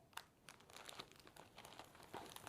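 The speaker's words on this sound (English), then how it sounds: "Now I like to wrap mine in a plastic bag." Crinkling plastic rustles in short, uneven bursts close by, with quiet gaps between the crackly handling noises.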